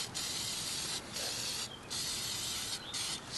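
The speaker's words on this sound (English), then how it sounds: "So just spray it." An aerosol can sprays onto an old tree branch armature for an HO scale model tree in a few steady hissing bursts with brief pauses between them, close and fairly quiet, with faint outdoor background and no talking.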